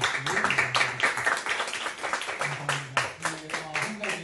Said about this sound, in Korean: 오늘도 수고해준 우리 하찮은 찬양팀을 위해서 격려의 박수